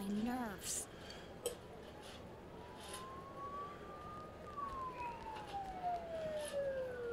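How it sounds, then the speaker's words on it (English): Police sirens wail in the rainy town of the video game Persona 4 Golden, a faint rising and falling tone drifting in the background while a player talks over it. "Don't those sirens sound really close?"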